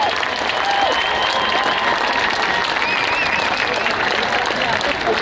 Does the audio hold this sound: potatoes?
no